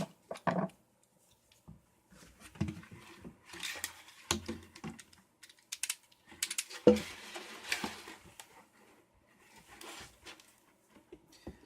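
Someone cuts a plastic container to make a garden pot. Faint, irregular snips and crunching scrapes of the plastic come in short bursts with pauses, close up and quiet, with no talking.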